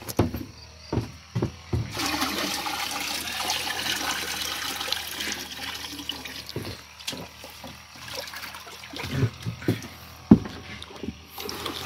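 Liquid poured onto the base of a durian tree, a steady splashing and trickling pour running for several seconds alongside scattered close knocks and handling sounds.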